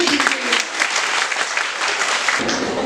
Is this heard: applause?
yes